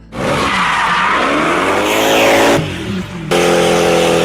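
A Mercedes 500E powered by a 5-liter dual overhead cam M119 V8 roars loudly while its tires skid and squeal in a long continuous screech, with a brief dip before the engine and tire noise surge back.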